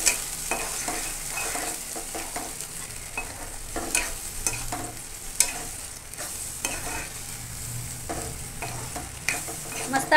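Masala black chickpeas being stirred in a pan with a spoon, repeated scraping strokes over a soft sizzle of frying, close and fairly quiet, with no talking.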